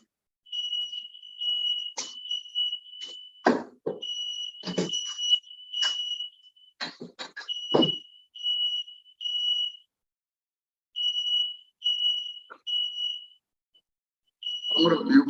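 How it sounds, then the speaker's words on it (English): A home smoke alarm shrills in repeated high-pitched bursts, interrupted and overlapped by nearby speech, then pauses briefly before resuming. "smoke alarm"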